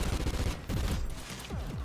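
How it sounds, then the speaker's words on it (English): Ripper submachine gun in Call of Duty firing fast automatic bursts, two or three tight rattling strings separated by short pauses, loud and close with no talking. "High rate of fire on the SMG mode"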